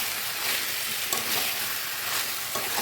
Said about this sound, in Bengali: দিয়ে ভালো করে 10 মিনিট কষিয়ে নেব।